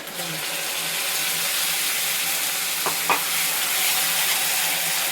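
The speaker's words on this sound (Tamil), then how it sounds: "தக்காளியும் நல்லா வதங்கட்டும்." Ground tomato sautéing in hot oil in a pan for seafood masala, a steady close sizzle with a couple of brief stirring scrapes partway through.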